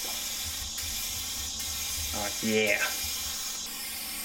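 An aerosol can sprays a second clear coat onto the headlights of an Acura RSX, a steady close hiss running through the whole stretch while a voice briefly speaks.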